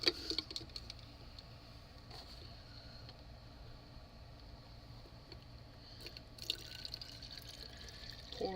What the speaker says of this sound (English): Pour me some water.